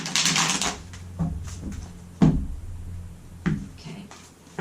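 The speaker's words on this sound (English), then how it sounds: "I'm going to shuffle this one more time" Tarot cards being shuffled by hand, a series of soft riffling bursts and taps spaced about a second apart, close and fairly quiet.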